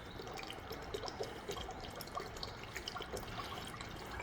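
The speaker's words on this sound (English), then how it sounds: "just pour it in your gas tank." Fuel additive pours and trickles steadily into a 2006 Pontiac Grand Prix GXP gas tank with faint dripping splashes, a continuous wet gurgle close by with no voices.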